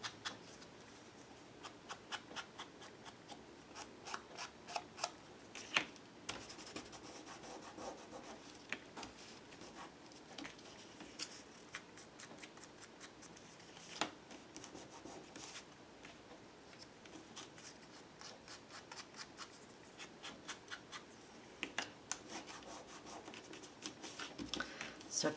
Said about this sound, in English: So tear out all of your images, distress the edges